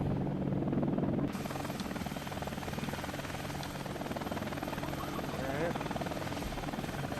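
A Hind attack helicopter in the flight game Air Missions: HIND comes in to land, its loud, steady rotor and engine drone filling the whole stretch with a continuous whir while someone talks briefly over it.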